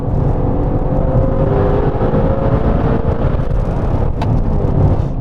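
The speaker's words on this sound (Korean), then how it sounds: "V8 엔진이 가지고 있는 굉장히 두터운 톤이 매력적이기도 하고요" A Maserati Levante Trofeo SUV's deep, throaty V8 engine hums steadily and loudly, holding a thick rumble with a slight rise in pitch as it accelerates.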